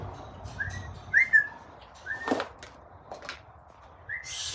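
Pet bird giving short whistles and soft chirps, a few scattered notes over a low background rumble and faint noises nearby.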